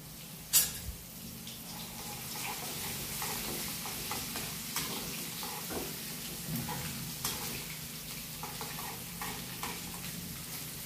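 Ginger garlic paste fries in cumin seeds for egg bhurji, a steady close sizzle with the soft scrape of a stirring spoon and a sharp clatter near the start.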